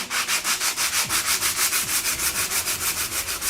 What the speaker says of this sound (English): Trusty sandpaper, I've got 100 on this.